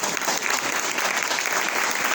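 A church congregation claps together in a dense, continuous burst of applause, fairly loud and close, with no talking over it.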